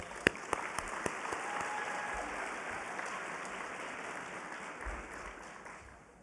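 An audience applauds after a food safety presentation, a few sharp early claps swelling into soft, fairly distant sustained clapping that gradually tapers toward the end.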